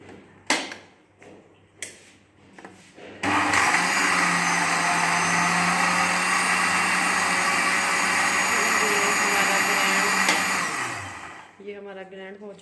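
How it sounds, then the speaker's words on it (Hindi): An electric grinder jug whirs loudly and steadily for about eight seconds while grinding chopped apples into a batter for homemade apple jam, then winds down, with brief kitchen clatter before and talk afterward. "अब हम इसे ग्राइंड करते हैं।"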